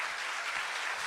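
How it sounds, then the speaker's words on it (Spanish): A crowd applauds with a strong round of clapping at a public event, steady and dense throughout the short moment, with no talking. "Un fuerte aplauso, pues, por favor."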